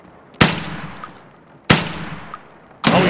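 Gunfire in the video game Escape From Tarkov: three loud, sharp shots spaced over a second apart, each with a short ringing decay, heard clearly with no talking.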